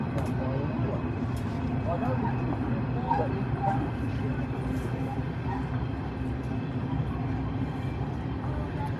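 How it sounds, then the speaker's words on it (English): A freight train rumbles past near a lawn bowls green, a steady, loud low roar holding for the full stretch with no break, while a commentator's voice runs faintly underneath. "Here's our freight train. Here comes a freight train."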